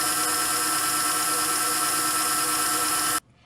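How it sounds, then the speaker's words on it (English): Electric whisk beating eggs for vanilla cupcake batter, a loud, close, steady high whine that runs without a break before cutting off abruptly. "You can see now the whisk is starting to make little ridges in the egg."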